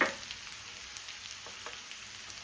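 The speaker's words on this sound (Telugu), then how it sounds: "క్యారెట్ ముక్కలు బీట్రూట్ ముక్కలు రెండు వేసేస్తాం వేసి చక్కగా కలుపుకొని" Carrot and beetroot pieces stir-fried and tossed in a pan for a carrot beetroot fry, a soft steady sizzle with a few light scraping knocks of stirring, quiet and close.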